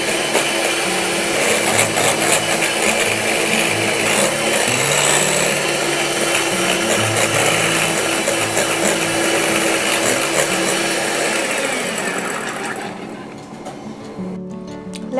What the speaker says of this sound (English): Now blend this again. Take adequate intervals according to your whisk.